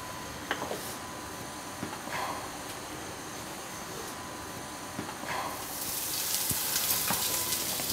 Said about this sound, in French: Pour voir si l'huile est chaude, on jette un petit peu d'oignon et on voit